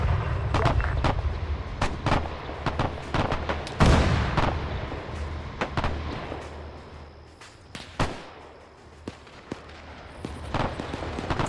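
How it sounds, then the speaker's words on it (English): A 6-pounder anti-tank gun fires repeatedly in an Arma 3 WWII battle, sharp booming reports scattered among lots of smaller gunfire cracks, with one especially heavy blast partway through and continuous rumble between shots. "And it's also the 6-pounder that's shooting down at him."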